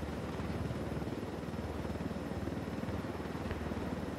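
Aircraft in the video game Ghost Recon Wildlands, a steady throbbing rotor-like engine drone with rapid pulsing beats, continuous and fairly quiet, with no voices.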